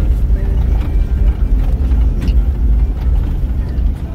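Off-road vehicle driving at about 50 km/h in fourth gear on a dirt track in Mabuasehube, giving a steady, loud low rumble of engine and road noise throughout with no break.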